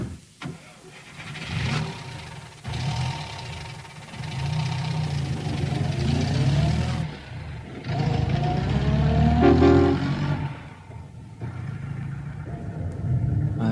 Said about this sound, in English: they used the mechanical sound of a car engine, turning the key in the ignition of their international hit